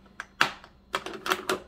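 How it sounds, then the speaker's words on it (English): Keys of an old typewriter being struck at an estate sale, a handful of sharp mechanical clacks in an irregular rhythm, close and fairly quiet, with no talking. "Typewriter. Oh, it's a typewriter."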